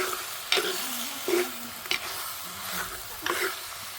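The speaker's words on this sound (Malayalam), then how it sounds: "ചിക്കനും ഉരുളക്കിഴങ്ങും കൂടി ഒക്കെ ഒന്ന് കൊട്ടി കൊടുക്കുവാണ്. ഇനി ഇതൊന്ന് വഴറ്റിയെടുക്കട്ടെ." Chicken pieces and potatoes sautéing in a pan over a wood-fired stove, a soft continuous sizzle broken by several stirring scrapes and rustles at a quiet level.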